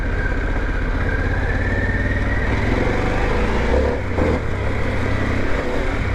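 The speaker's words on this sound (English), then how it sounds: "Gotta love this Pan America, man. This freaking Revolution Max engine." A Harley-Davidson Pan America motorcycle with its Revolution Max engine runs at a low, steady idle, a loud close rhythmic engine rumble that continues unbroken throughout.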